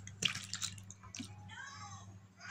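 Water squirts and splashes as it is squeezed from a bottle into a container with dish soap while testing gold paydirt, faint and close with a short gurgling burst, then softer trickling.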